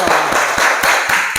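An audience in a classroom gives a short burst of applause, with rhythmic claps and a few sharper hits standing out over a dense patter.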